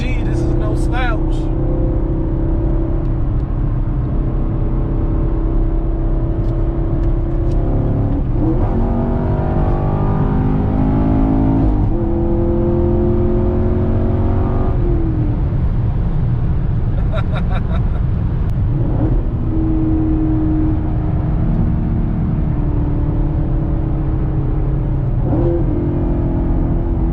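A 2019 Chevrolet Camaro SS accelerates during a ride, its engine a constant loud roar heard from inside the cabin with pitch rising and dropping through repeated surges, while people talk throughout.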